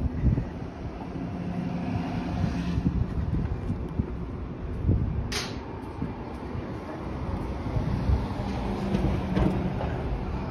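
Wind gusts buffet a handheld microphone on a downtown Nashville street at night, a steady low rumbling roar with a few sharper bumps and faint street noise underneath.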